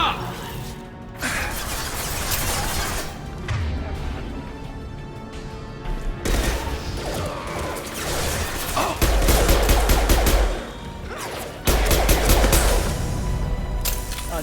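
Dense, rapid gunfire from the Mass Effect 2 video game, a continuous crackling barrage of shots with crashing, shattering impacts, staying loud and busy throughout and surging harder in the later bursts.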